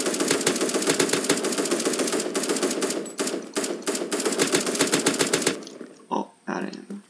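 Rapid automatic gunfire from the browser shooter game Krunker.io, loud and dense bursts of shots for several seconds, breaking into a few short separate bursts near the end.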